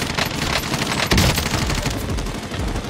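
A Groza rifle fires in a shooter video game, a loud, dense stream of rapid automatic shots that carries on nearly without pause across the whole stretch.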